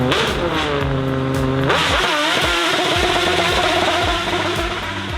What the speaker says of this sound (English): or the snarling bark of a Ferrari V12.